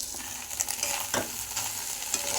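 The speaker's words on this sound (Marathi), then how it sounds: "आता हे सर्व एकत्र करून घ्यायचं आहे" Anda bhurji, a scramble of egg with onion, stirred in a frying pan: close scraping strokes over a steady sizzle, with a few sharper spatula scrapes standing out. No voice is heard.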